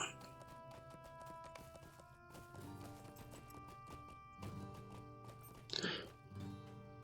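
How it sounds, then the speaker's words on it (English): A horse ridden at a fair in the online game LOTRO gives a faint, quick clip-clop of hooves beneath in-game background music, with a brief louder burst of effects near the end. "we are going to do some horse riding."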